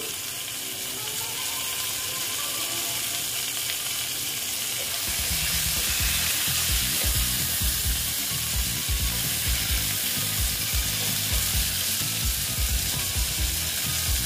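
Pointed gourd frying in oil in a pan gives a continuous sizzle that grows denser and louder partway through, with rapid crackling bursts and no talking.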